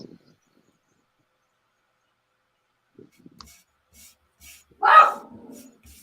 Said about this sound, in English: Somebody's puppy.